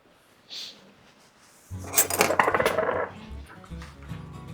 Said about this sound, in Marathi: हे पीनट बटर मी एका बाउलमध्ये काढतोय